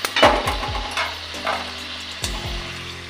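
French fries are lifted out of hot frying oil, giving a bright sizzle with a few sharp metallic scoops and knocks of the utensil against the pan.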